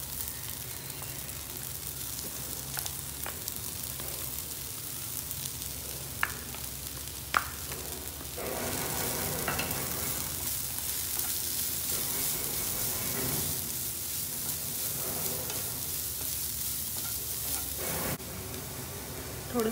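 Carrots sautéing in a pan with onion, tomato and masala give a soft, steady sizzle, quiet and continuous, with a few brief stirring clicks and no talking.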